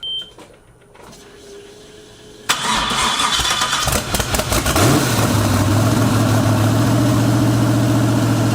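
A quad turbo car engine with a new valve spring cranks and fires up after a quiet start, then runs loud and close, settling into a steady, rumbling idle during a heat cycle.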